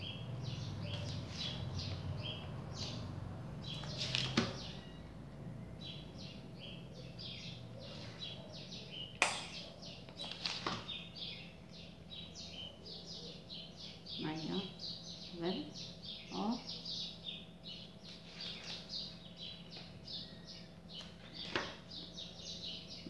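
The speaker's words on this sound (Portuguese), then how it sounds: "É ver os passarinhos." Small birds chirp and tweet in an acerola tree outdoors, scattered short calls at moderate distance over a low background hum, with brief voices talking in places.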